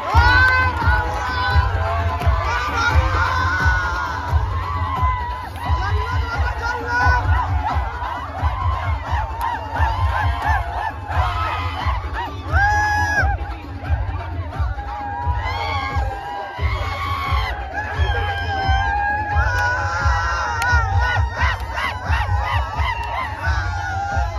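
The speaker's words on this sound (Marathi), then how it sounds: "आपण सुद्धा एका जोरदार टाळी आणि सलामी देत असताना या चांगी विभागाचे विद्यमान सरपंच आदरणीय अजय" A large crowd at a Dahi Handi festival cheers and shouts loudly and continuously, with honking and shrill whistle-like calls over the roar. Any clapping is buried in the noise.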